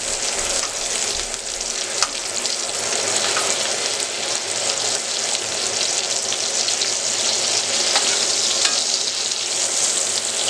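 Beef steak with garlic and butter fries in a pan, giving off a dense, continuous crackling sizzle that stays loud and even throughout, with no talking.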